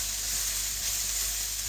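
Grated coconut roasting with chicken in a pan gives a steady, close sizzle and hiss with no break.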